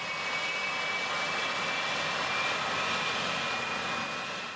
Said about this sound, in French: Ici, par exemple, vous avez une tuyère qui simule le réacteur de l'avion.